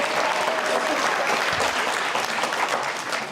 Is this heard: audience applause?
yes